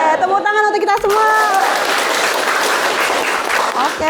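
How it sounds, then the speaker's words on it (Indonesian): Students in a sociology classroom break into steady applause that lasts several seconds, with voices over the first moments. "Oke, tepuk tangan untuk kita semua."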